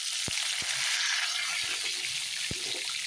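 Dried chillies, whole cumin and washed bay leaves hit hot oil in a pan with a steady, close crackling sizzle, punctuated by a few sharp pops.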